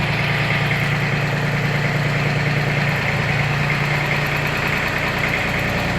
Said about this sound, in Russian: Двигатель работает просто отлично, без каких-либо посторонних шумов.